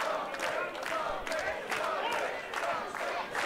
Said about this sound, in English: you can hear the buzz from the crowd here in Yarmouth for Jake Something